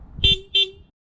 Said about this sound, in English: Here is the honk test from outside the car.